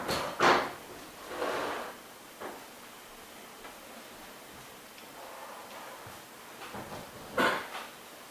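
A door or drawer opens in a quiet room, with a few scattered soft clicks, rustles and short scraping bursts spread over several seconds and no talking.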